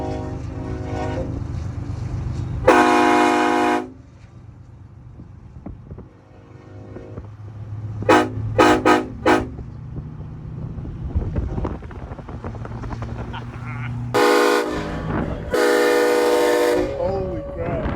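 Loud train horn blasts from a custom horn setup over rumbling engine and wind: one long blast, a burst of quick short toots, then two more long blasts close together.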